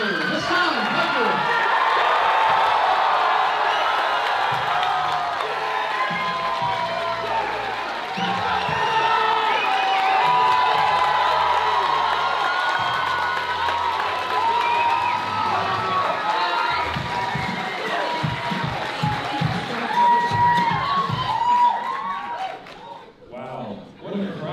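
A large live crowd cheers, whoops and shouts for a Twitch streamer and political commentator taking the stage, a loud sustained roar with applause mixed in that fades near the end.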